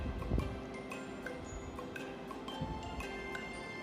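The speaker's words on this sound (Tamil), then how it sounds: "கழுவி இந்த குண்டானில் போடுங்க." Kallapu keerai greens being swished and rinsed in water inside a vessel, with soft continuous sloshing, splashing and dripping close by, steady throughout with no talk.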